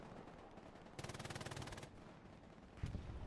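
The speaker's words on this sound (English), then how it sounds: "On top of artillery, we've now got some shots raining in." Distant gunfire in Hell Let Loose, a World War II battlefield game: a faint rapid machine-gun burst lasting about a second, followed later by a single muffled thump, all over low background noise.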